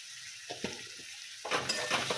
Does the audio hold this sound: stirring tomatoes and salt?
yes